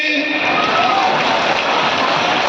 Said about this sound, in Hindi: जोर से ताली बजाइए भाई अशोक यादव जी